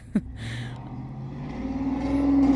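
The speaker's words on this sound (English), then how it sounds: "That does sound kind of like a bad muffler, but it's like some muscle car that someone down the street has" A muscle car engine revs loudly with a rough, bad-muffler rasp, its tone climbing steadily after a sharp opening bang and holding near and strong.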